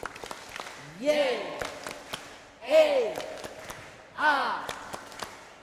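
A church congregation performs the Divine Mercy clap, three separate bursts of group clapping spaced a second or two apart, each rising with a sung or chanted phrase and fading to near silence between.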